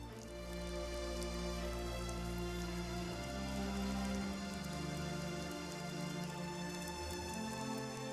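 Steady rain falls on a rainforest canopy, a soft wash of drops beneath sustained, droning orchestral music that carries through the whole stretch.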